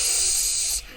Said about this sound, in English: Spray you with my fire extinguisher because you told me to go fuck myself in French.